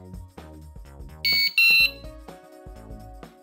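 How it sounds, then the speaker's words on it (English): A DorWatcher open-door alarm gives its warning tone, two short loud electronic beeps in quick succession, set among other tonal chimes and sounds. "a warning tone will sound."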